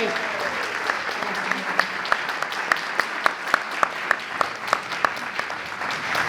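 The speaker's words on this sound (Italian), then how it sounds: "Un applauso! Bravi!" An audience applauds the award winner at a regional amateur theatre ceremony in Verona, with dense, sustained clapping and several sharper individual claps standing out across six seconds, and a voice faintly under it.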